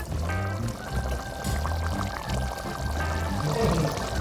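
Water pours steadily into a pot for several seconds, a full gurgling stream with a rising tone as it fills.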